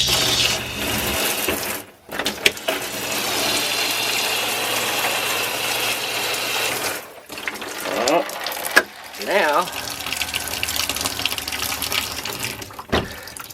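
Water from a cold tap streams steadily through the shower head of a Forest River Geo Pro RV during winterizing, a continuous close hiss with two brief cutoffs and faint background talk.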